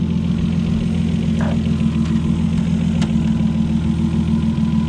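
A Nissan R32 Skyline engine idles steadily and a little high, a continuous low rumble with faint ticks and clicks on top, no talking.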